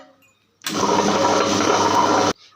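A wet grinder churns soaked ration rice with water for idli batter, a steady loud whirring drone that starts abruptly, runs evenly for almost two seconds and then cuts off.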